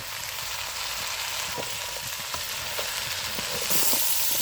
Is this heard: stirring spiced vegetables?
yes